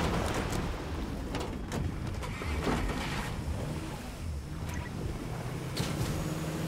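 A motorboat in a video game drones steadily for several seconds with a rough, churning engine rumble and water wash, fairly even in loudness, with no speech over it.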